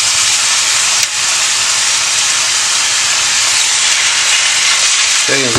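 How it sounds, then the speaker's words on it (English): Chicken pieces sizzle loudly in hot olive oil in a pan on medium heat, a dense continuous hiss close up, with a brief knock and a voice starting at the end. "You're going to hear that sizzle like that."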